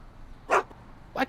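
Einstein, Doc's dog in the Back to the Future video game, barking: two short, sharp woofs about half a second apart, close and clear over a quiet background.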